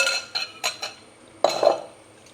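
Fried rice with cabbage, beans and nuts being stirred in a pan: a few quick metallic clinks of a spoon against the pan, then a longer scraping clatter, close and alone.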